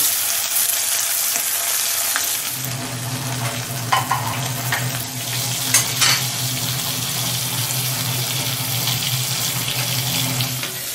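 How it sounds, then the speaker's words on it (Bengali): Parshe fish, slid in one by one, fry in hot oil with a continuous loud sizzle and bubbling, steady throughout with occasional crackling spits. "আমি এবার মাছটা ছাড়ছি। একটা একটা করে মাছ আমি এর মধ্যে ভেজে নেব।"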